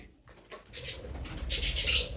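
Pigeons flutter and flap about close by inside a house, with soft rustling wing beats and faint coos, growing busier toward the end.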